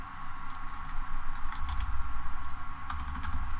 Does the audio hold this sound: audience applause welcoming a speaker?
no